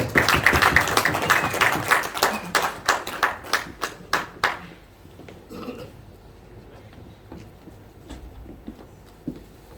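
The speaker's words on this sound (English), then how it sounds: "And a big round of applause as well." Audience clapping at a cricket association launch event, a dense burst of applause that thins into scattered, individual claps before fading into quiet room noise.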